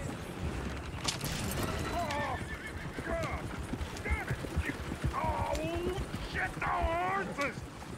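A horse in Red Dead Redemption 2 neighs and whinnies several times over a steady clip-clop of hooves, fairly close, with voices talking alongside.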